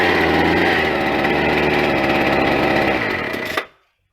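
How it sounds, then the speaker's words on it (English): Atlas Copco off-track tamper engine, warm and running without choke, roars loud and steady with a rattling small-engine drone, then cuts off abruptly near the end into silence. "Now without choke it will start."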